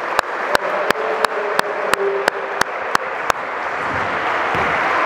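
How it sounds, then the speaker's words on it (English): Kids at a mini basketball coaching clinic clap in a steady, evenly spaced rhythm, about ten sharp group claps, then dissolve into a loose wash of applause and crowd noise. "Big applause for them."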